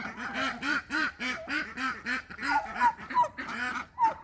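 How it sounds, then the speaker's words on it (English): Ducks quack repeatedly in a lively, overlapping chorus on a homestead, close by and fairly loud, with no talking. "look at how happy those ducks are"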